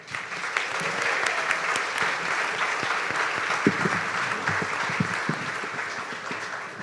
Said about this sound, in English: Let's give Ashley a round of applause.